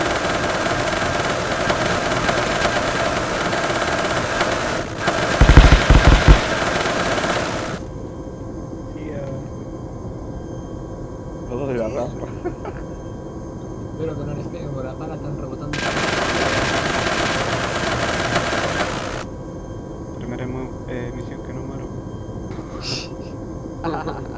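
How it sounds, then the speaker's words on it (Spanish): Bursts of rapid Arma 3 gunfire, loud and dense, in two stretches with quieter gaps where people talk over radio-like chatter. "Disparos, disparos al sureco."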